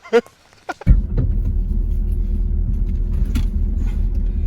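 Modified Overland Rebel Porsche Cayenne Turbo pulling off road into the jungle, a steady low engine rumble starting abruptly after a brief moment of voices and staying loud and continuous.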